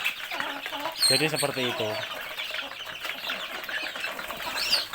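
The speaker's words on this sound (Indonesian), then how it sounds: "meskipun masih panas, ayam-ayam saya sudah berebut." Chickens cluck and flap as they scramble for warm herbal feed, several busy bursts of clucking close by, with a person speaking briefly over them.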